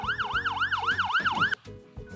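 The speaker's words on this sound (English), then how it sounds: "Let's turn on the sirens and go" A wailing emergency siren rises and falls in quick repeated sweeps, loud and close, then cuts off abruptly leaving faint background noise.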